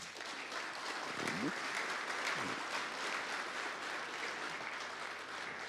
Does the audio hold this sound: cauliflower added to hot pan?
no